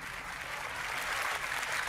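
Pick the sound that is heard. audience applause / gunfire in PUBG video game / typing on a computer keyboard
audience applause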